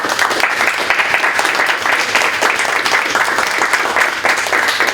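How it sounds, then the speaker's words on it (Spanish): An audience at a panel session applauds continuously for five seconds, a dense, even wash of many hands clapping without a break. "un aplauso, por favor"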